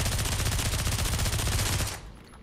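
Rapid burst of Uzi submachine gun fire in the VR shooter Pavlov, a loud continuous rattle of closely spaced shots lasting about two seconds, then cut off abruptly into quiet.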